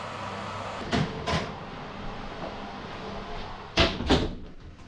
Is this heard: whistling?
no